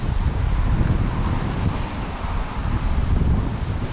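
Strong wind by Lake Taupō, New Zealand roars and buffets close against the microphone in a continuous, loud low rush with slight gusting swells.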